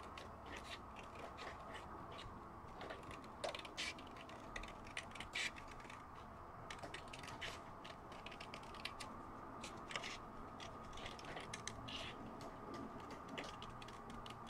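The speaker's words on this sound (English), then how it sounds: "So we're going to go ahead and just cut the circle out." Scissors cutting a paper circle for a handmade spinner card, quiet irregular snips and clicks over a soft background, close and faint with no talking.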